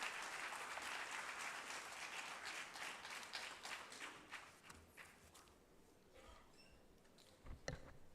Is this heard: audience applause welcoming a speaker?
yes